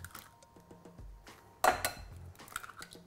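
Two eggs crack against a bowl of milk in a home kitchen: a couple of quiet taps, then a brief sharp crack and wet splatter as the contents drop in, close and alone.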